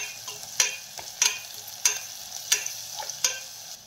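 Red chili powder and turmeric fry in a hot pan, a soft steady sizzle punctuated by regular sharp scrapes of a spoon stirring roughly every half second, close and fairly quiet with no voices.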